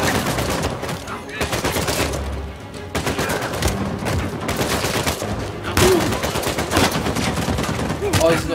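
Rapid gunfire from a chaotic Uncharted 4 chase shootout, dense bursts of shots crackling almost nonstop at high volume over a busy game mix, with people talking now and then.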